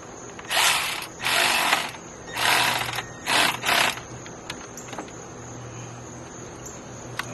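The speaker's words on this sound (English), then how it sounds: "then I finish off with the hand ratchet" A hand ratchet clicks in five rapid bursts while tightening the thermostat housing bolts on an LS-swapped Buick Regal engine, close and crisp, followed by quieter ambient noise.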